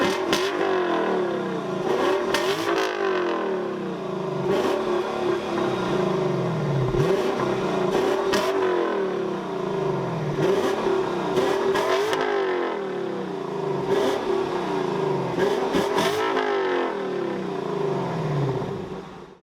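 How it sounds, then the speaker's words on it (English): A 2018 Lexus LC 500 with an active sport exhaust revs repeatedly, its loud, close engine note rising and falling in steady surges over a sustained drone, with no talking. "It is also connected to an active sport exhaust system that features flaps that open and close based on engine speed"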